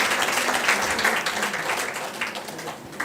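An audience at a women's summit claps in a lively round of applause, a dense, fairly loud patter of many hands that tapers slightly toward the end.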